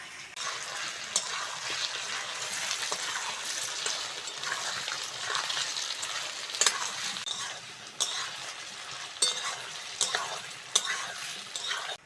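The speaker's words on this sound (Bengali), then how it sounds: "কচু আলুটা ভালো করে ভেজে নিয়েছি" Chunks of taro and potato fry in a pan with a steady, close sizzle. Stirring scrapes and clinks surface in occasional sharp bursts, and no one speaks.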